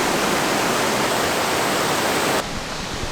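Steady broadband roar of an Oregon waterfall, loud and close, filling the whole clip with constant rushing water; the sound dips slightly in brightness near the end but continues without any voices.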